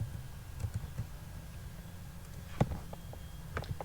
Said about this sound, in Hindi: यहाँ पर टाइप करते हैं